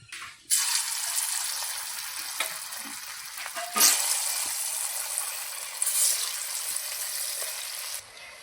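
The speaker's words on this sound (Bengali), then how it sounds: "আমি এখন কোপ্তাগুলো ভেজে নেব" Vegetarian koftas drop into hot oil in a wok and deep-fry with a loud, steady sizzle that starts abruptly and holds evenly for several seconds before cutting off.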